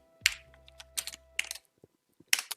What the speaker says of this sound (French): Mais je sais plus taper sur mon clavier, c'est dingue.